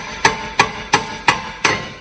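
A hammer tapping a brake rotor onto an Audi B6, five sharp metallic strikes at an even, steady rhythm, close and fairly loud, each with a short ringing decay.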